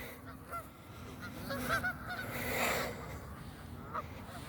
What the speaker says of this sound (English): Look how many goddamn birds there are.